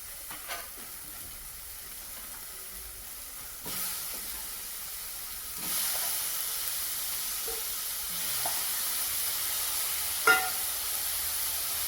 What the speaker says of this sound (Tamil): அப்போ தக்காளி வெள்ளை பூசணிக்காய் எல்லாம் சேர்ந்து வதங்கும்.